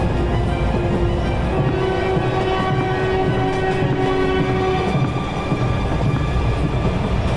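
A train rumbles steadily in an animated horror story set at a haunted station, its horn sounding in long sustained tones over the continuous loud roar and rattle of the rolling cars, with no voices.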